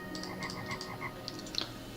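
Frogs croak in the hidden-object puzzle game Drawn 2: Dark Flight, a series of short, evenly spaced croaks over a steady low musical backdrop, ending with a sharper cluster of calls.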